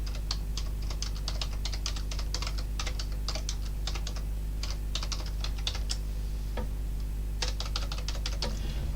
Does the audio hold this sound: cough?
no